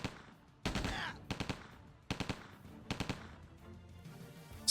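Automatic weapon fire in the video game Another War, several short bursts of rapid shots separated by brief pauses, sharp and close.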